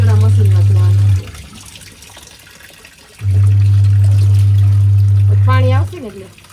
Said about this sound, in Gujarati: આપણે મશીન ભરાય છે ને